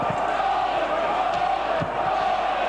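A rugby league crowd at Knowsley Road for the Wigan versus Oldham Lancashire Cup final cheers steadily as the teams walk out, a broad, distant-sounding roar with occasional thumps underneath.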